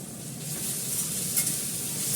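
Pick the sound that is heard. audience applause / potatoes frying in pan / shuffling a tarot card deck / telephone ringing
potatoes frying in pan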